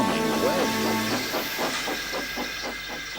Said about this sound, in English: steam hissed from the safety valve in an alarming way